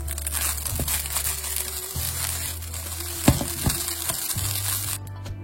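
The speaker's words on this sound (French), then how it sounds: "au bout d'un moment, les riz commencent à sauter dans le wok" Rice stir-frying in a hot wok for Chinese Cantonese-style fried rice: crackling sizzle with scraping and clattering as the rice is tossed, sharp knocks of the spatula against the metal, close and fairly loud, with no talking.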